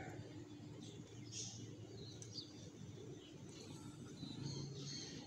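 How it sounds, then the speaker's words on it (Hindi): Wild pigeons perched on a shed roof coo softly now and then over a quiet morning backdrop, with faint chirps and low, steady ambient noise throughout. "इधर कबूतर, ये जो जंगली कबूतर होते हैं ना, वो इधर बैठे रहते हैं ऊपर आसमान पे।"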